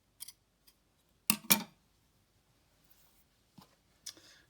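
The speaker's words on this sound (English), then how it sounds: "And we can trim the string away." Scissors snip through craft string while trimming a yarn octopus, a few quick crisp cuts spaced out over a quiet background with no talking.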